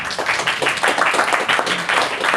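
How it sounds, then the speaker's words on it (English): An audience at GUADEC 2015, the GNOME conference, applauds a speaker's enterprise identity talk, with loud, dense, continuous clapping filling the hall from start to finish. "please give an applause"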